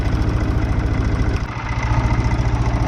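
An International 484 tractor engine runs steadily close by, a low, throbbing idle with a regular pulse that dips briefly midway before settling back into the same rumble.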